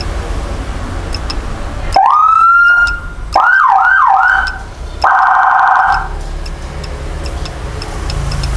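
A Whelen fire-standard siren on a fire support vehicle built for forest and land fires switches through several modes in short bursts: a rising wail, quick yelps, and a rapid warble, each loud and close, separated by brief pauses.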